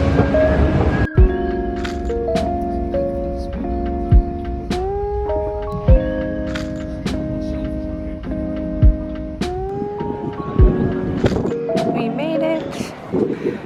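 Railway sounds fill the scene: a train's rumble with tonal hums and squeals as it moves through a station, with occasional clunks and some voices.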